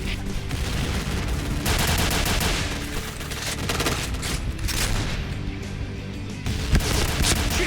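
Rapid gunfire from the Point Blank game, a Pindad SS3 rifle among the weapons, rattling in dense, sustained bursts with a few louder reports near the end, no talk over it.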